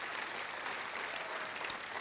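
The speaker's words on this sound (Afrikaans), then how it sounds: "Kom ons gee hulle hande klap" Church congregation clapping during an evening service, a steady dense wash of hands filling the room for a couple of seconds with no voices over it.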